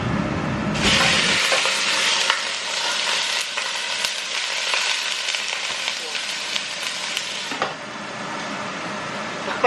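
Chicken pieces go into very hot oil in a cooking pot, and a loud, bright sizzle bursts up at once and keeps crackling steadily, fading only slightly near the end, with a few utensil clinks.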